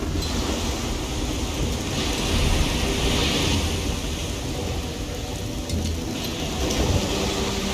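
A heavy rainstorm with thunder in Risen 2: Dark Waters, with steady dense rain hiss and low rumbling thunder swelling in the middle, loud and continuous with no speech.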